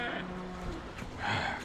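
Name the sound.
cows mooing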